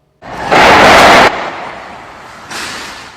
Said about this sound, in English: The sound of possible gunfire can be heard in this video posted online